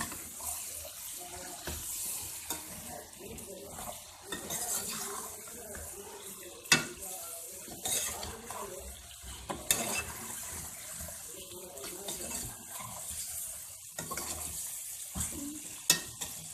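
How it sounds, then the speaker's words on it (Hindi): Chicken pieces with salt, coriander, turmeric and chillies fry and get stirred in a pot for biryani, a steady close sizzle broken by scraping spoon strokes and clinks throughout, with no talking. "नमक, धनिया, हल्दी और मिर्चें। इसी तरह भून लेंगे इसे हम।"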